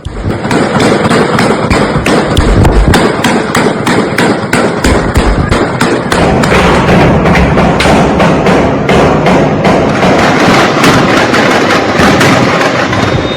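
Rapid, relentless bursts of gunfire crack loudly and continuously, like sustained automatic shooting without any real pause.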